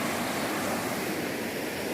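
A river flows beside an 11th-century Balinese temple, giving a steady, dense wash of rushing water that stays even and continuous from start to finish, with no voices over it.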